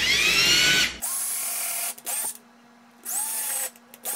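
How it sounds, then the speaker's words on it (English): A power drill with an 1/8 inch bit whines loudly drilling into a wall in several bursts of about half a second to a second, starting and stopping, with quiet pauses between runs. "I mark where I want to drill"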